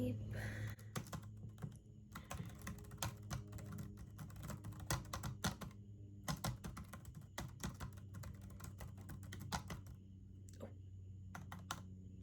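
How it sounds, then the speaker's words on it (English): Fingers type on a computer keyboard at a bookshop counter, producing close, crisp, irregular clicking bursts with brief pauses throughout. "while I type."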